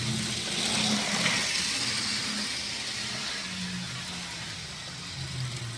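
A 1976 Lionel Burlington Northern model train runs at top speed, giving a steady whirring motor hum and faint rolling rattle that hold at an even level, with nobody talking.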